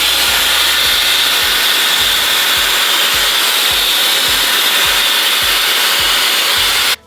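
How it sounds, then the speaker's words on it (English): A Shark FlexStyle hair dryer with its concentrating nozzle attachment blows a loud, steady rushing roar while rough-drying hair up close, with a faint rhythmic thumping underneath, until it cuts off abruptly at the end. "It's just for you to rough dry all your hair basically."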